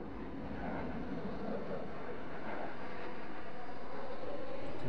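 An aircraft flies overhead near an outdoor close-quarters training area, a steady broad roar that builds slowly over several seconds.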